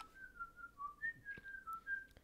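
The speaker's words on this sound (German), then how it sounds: "Jetzt pfeifst du das statt zu singen." A person whistles a short tune, clear single notes gliding and stepping up and down in a steady melodic line, fairly close with a few soft knocks in the background.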